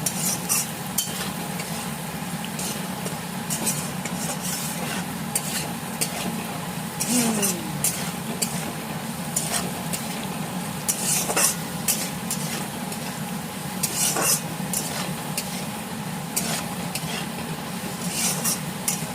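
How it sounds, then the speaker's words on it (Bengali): Food frying in a pan with salt and turmeric gives a steady sizzle under repeated scraping strokes of a spoon stirring it, close and continuous, with a few sharper clinks of utensil against the pan. "নুন দিয়ে একটু লালচে করে ভেজে তারপরে ওতে মশলা দিয়ে কষিয়ে"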